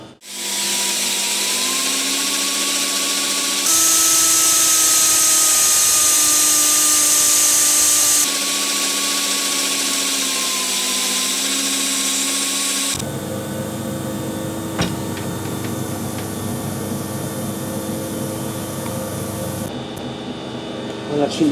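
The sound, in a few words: metal lathe running with power feed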